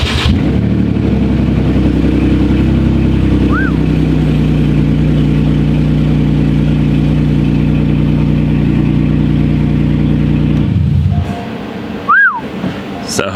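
A Porsche Cayman engine with its exhaust unbolted fires up and runs loud and steady for about ten seconds, droning close by, then cuts off, leaving a quieter pause with a couple of short squeaks.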